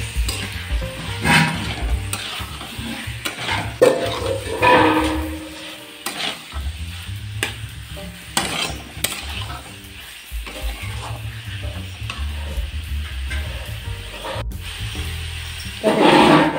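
Pointed gourd (potol) frying in a pan while being stirred, with a steady sizzle and intermittent scraping and clanking of the utensil against the pan, nearby and alone without talk.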